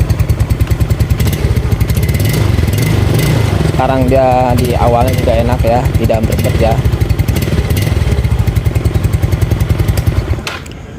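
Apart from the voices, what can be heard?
Yamaha Mio scooter engine with leaking exhaust filter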